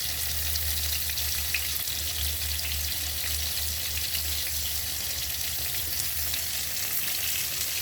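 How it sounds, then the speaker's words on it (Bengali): Steady, close frying sizzle from a pan, likely vegetables such as eggplant being fried while cooking mulo dal, running continuously without pause and with no voices. "এইভাবে ভেজে নেবে"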